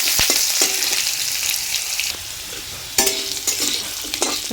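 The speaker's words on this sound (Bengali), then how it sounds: "আলুটা দিয়ে দিচ্ছি। আলুটা একটু সামান্য ভেজে নেব" Potato pieces fry in a pan after a bay leaf goes into the oil, giving a steady close sizzle with stirring scrapes and clicks from a utensil throughout, no talking.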